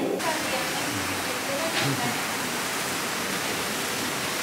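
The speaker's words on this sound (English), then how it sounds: "This is the hot tub." A hot tub in the relaxation area of a garden spa during a wedding weekend gives off a steady, close hiss of bubbling, churning water that carries on without a break.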